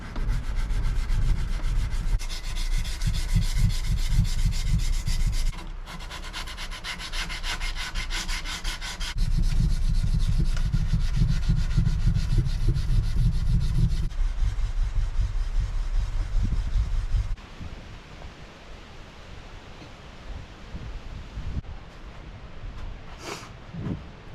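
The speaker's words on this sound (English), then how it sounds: "now we're gonna sand the guard" A knife guard is sanded by hand with 220 grit sandpaper, giving a steady, close, raspy rubbing in rhythmic strokes that change in intensity and stop near the end, with no talk.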